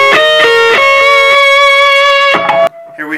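An electric guitar plays a short riff, with a few picked notes, a sustained sliding note and a last note that stops abruptly. The tone is loud and close, heard alone.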